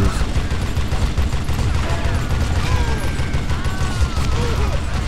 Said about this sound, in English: This Gatling gun is actually quite fun to